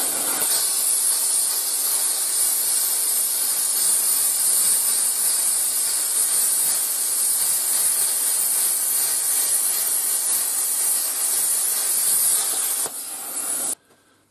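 A Parkside PPSK40A1 plasma cutter running on external air at 80 PSI slices through 6mm metal, giving a loud, steady, close hiss that holds for about thirteen seconds before cutting off abruptly.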